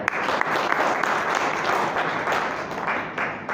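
Dense applause from an audience at a Hindi poetry gathering (kavi sammelan) held on Martyrs' Day, steady and loud throughout the short stretch with no speech over it.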